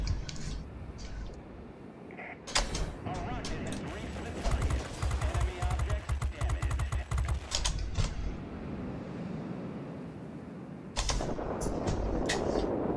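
Fighter plane firing rockets in the World of Warplanes video game, rapid bursts of launches and crackling fire over a steady engine drone, with someone talking over it.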